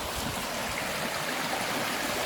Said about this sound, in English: You can get down to the stream here.